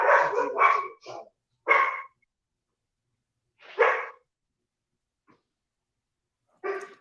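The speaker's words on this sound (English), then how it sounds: "my dogs got really loud" Dogs barking loudly indoors, several close harsh barks in quick bursts with silent pauses between them, and a last bark at the end.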